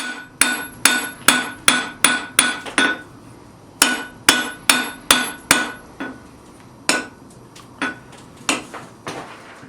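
A blacksmith hammers a hot steel bar to straighten it, ringing metal strikes in quick regular runs with brief pauses, then slower, lighter blows trailing off, all close and loud.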